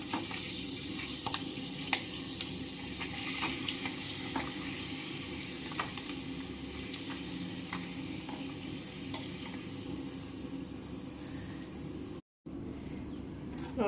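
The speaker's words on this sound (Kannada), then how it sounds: "ನೋಡ್ರಿ ಅಕ್ಕಿ ಹಿಟ್ಟಿನ ಹಪ್ಪಳ ನಾನು ಹುರಿದ್ದೇನು" Rice flour papad frying in hot oil, a steady dense sizzle and crackle running throughout with occasional sharper pops and stirring clicks, close and continuous with no talking, cutting out briefly near the end.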